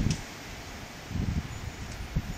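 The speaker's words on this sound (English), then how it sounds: "Here comes a big, big gust." Steady outdoor wind with a gust swelling midway, rushing around a WindyNation WindTura 750 wind turbine, a constant broadband roar with light rustling.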